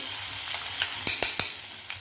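Garlic-ginger paste with whole spices frying in hot oil for a sprouted moth bean curry, a soft steady sizzle with a few sharp crackles and stirring clicks, close and alone.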